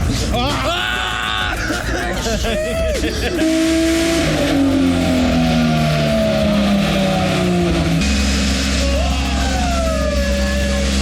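An 800hp turbocharged Barra-engined Nissan R31 drift car revs hard on a dyno, a loud close engine roar with rising and falling revs throughout, while people talk over it.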